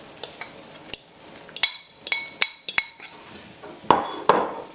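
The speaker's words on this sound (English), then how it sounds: "And start stirring that thing like crazy" A spoon stirring desiccated coconut into a hot sugar mixture in a pot, with irregular clinks and scrapes against the metal sides and a soft sizzle rising toward the end, close and without talk.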